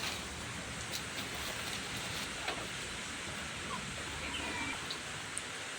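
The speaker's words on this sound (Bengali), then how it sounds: "বৃষ্টি দেখেন কেমন বৃষ্টি হচ্ছে ভেসে গেছে চারিদিক" A steady, even hiss of heavy rain falling all around, continuous and unbroken, with no voices.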